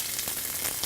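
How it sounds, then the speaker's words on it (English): Onions hiss and crackle steadily as they fry in hot oil in a pan, a short, close, even sizzle with no talking. "Now that sizzle, that's the sound you want to hear."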